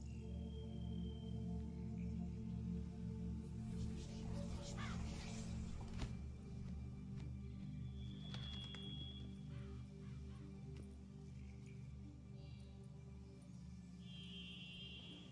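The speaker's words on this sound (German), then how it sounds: "Was war das? Ein Rabe." A raven caws several times in the Witcher 3: Blood and Wine video game, the calls standing out over a low, steady ambient drone.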